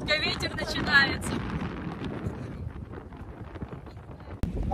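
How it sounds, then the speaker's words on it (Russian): Gusty wind rumbles against the microphone on a boat off Malta, with churning water and a faint voice underneath, ending in a sharp knock. "Прям хорошенько ветер начинается."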